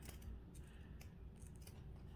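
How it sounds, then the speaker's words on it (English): Scissors snipping through material for a DIY front porch sign, a steady close run of faint cutting crunches with no talking. "I'm trying to figure out why my scissors won't even cut through"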